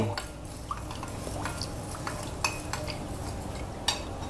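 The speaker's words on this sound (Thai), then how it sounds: "แล้วก็คนให้เกลือละลาย" A spoon scrapes and clinks against a container while stirring salt into liquid, with a few sharp metallic taps standing out over a steady low background.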